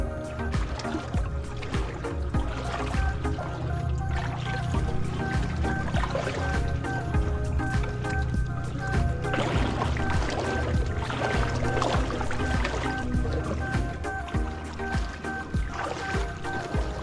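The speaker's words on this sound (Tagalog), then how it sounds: "Kaya ang talamsik ng tubig." Water sloshing and splashing into a wooden fishing boat with plywood lining, a steady continuous wash of spray and trickling that runs unbroken throughout.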